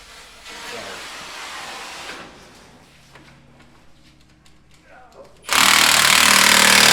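Impact wrench hammering at a broken leaf spring bolt on a 1978 Jeep J10, a loud sustained burst near the end after quieter hissing and shop noise.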